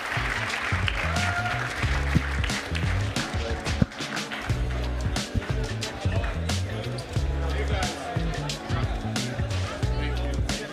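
At a hackathon finals in Hamburg, an audience claps and cheers amid a busy room full of thumps and chatter, while a voice talks over the crowd.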